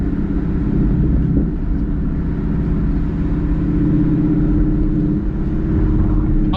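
Cabin drone of a 2018 Ford Mustang GT 5.0L V8 fitted with an AWE Touring catback exhaust, a steady loud low rumble while cruising with slight swells in engine tone.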